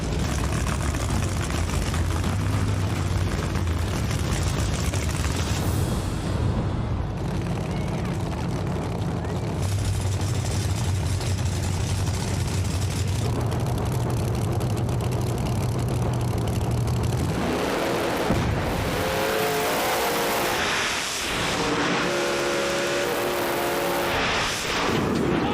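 Street Outlaws drag race cars roaring down the strip at Vanderbilt, a loud sustained engine blare that fades into crowd noise and announcer commentary.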